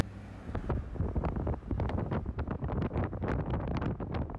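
Wind roaring across a phone's microphone as it is held out the window of a moving car in Little Cottonwood Canyon, loud buffeting gusts that thump and flutter unevenly throughout, with no talk over them.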